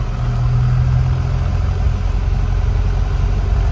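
A 2019 Mahindra Thar diesel engine idles with the windows down, giving a steady, loud low-pitched rumble and chug that holds evenly throughout without revving.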